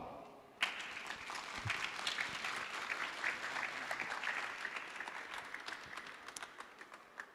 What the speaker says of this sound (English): a big applause for Dr. Kyung Gok Park